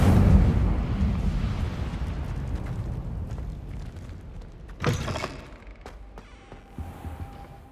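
A fire spell effect from a Harry Potter video game: a rushing roar that slowly fades, then a sharp whooshing burst near the middle and a few faint clicks and pops afterward, with no speech.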